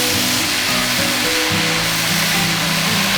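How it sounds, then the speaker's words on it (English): Vegetables sizzle in butter or oil for a creamy potato and leek soup, a loud continuous hiss and crackle close up with no voices. "I love the sound of the vegetables sizzling in the butter or oil."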